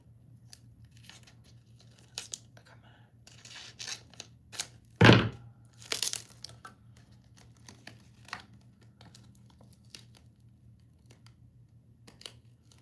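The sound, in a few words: cutting off the end of a craft piece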